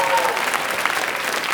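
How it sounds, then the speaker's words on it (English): Audience applause for a panel at a school writers' week event, a dense steady round of clapping filling the room, loud and continuous with a few faint voices mixed in. "one more big round of applause for our panel"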